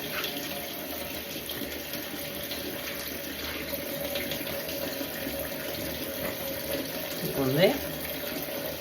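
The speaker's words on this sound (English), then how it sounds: "let's get some hot water" Hot water runs from a tap into a kitchen sink in a steady, close hiss and splatter that continues throughout, with a brief spoken remark and a short vocal sound near the end.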